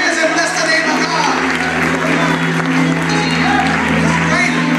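Congregation clapping hands during a church sermon, steady dense applause filling the room, mixed with crowd voices and a sustained low musical drone underneath.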